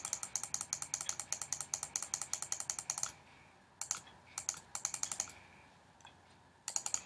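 Computer keyboard being typed on in rapid bursts of crisp clicks, a dense run for three seconds, then short clusters separated by gaps, close and fairly quiet.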